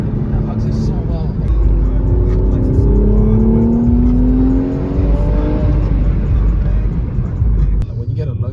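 Mercedes-AMG car taking a turn at speed, with a steady loud engine drone and rising, sweeping tones under continuous road rumble, while a person talks over it.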